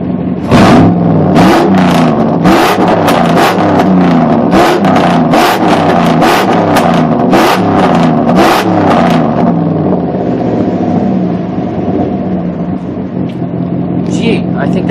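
A 5.7 liter Hemi V8 rumbles loudly nearby and is blipped repeatedly in a quick series of sharp revs, then settles into a steady idle; speech is heard over the engine.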